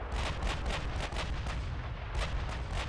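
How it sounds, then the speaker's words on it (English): Repeated battleship gunfire from a Norwegian fleet in the naval strategy game Ultimate Admiral Dreadnoughts, a dense run of heavy booming salvos layered over a constant low rumble, loud and continuous with no voices. "Norwegian battleships already opening up."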